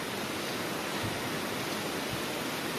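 A waterfall on the Pindari Glacier trek in the Himalayas, a loud, unbroken broadband roar of falling water filling the whole stretch evenly, close by and with no voices.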